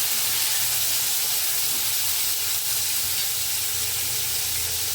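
Steamed field bean pods being stirred into a frying pan, giving a steady, close sizzling hiss with soft scraping movement throughout and no talk.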